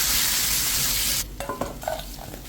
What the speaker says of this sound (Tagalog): Saka natin piprituhin yan hanggang sa maging crispy at iset aside.